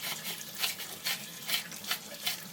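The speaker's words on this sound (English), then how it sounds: "Just move the handle back and forth under running water." A juicer part is rinsed back and forth under a running kitchen tap, a steady close hiss of water with soft rhythmic surges about twice a second as the part passes through the stream.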